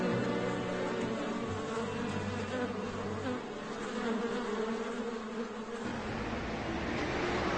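Bees buzz steadily in a dense, continuous drone, as at a beekeeping operation in the northern Black Forest, a close swarm hum that holds evenly throughout with no voices.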